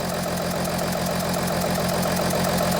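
A diesel Audi Q7 idling roughly with a misfiring cylinder, giving a steady, loud, uneven chug with a faint knock in its pulse and no talk over it.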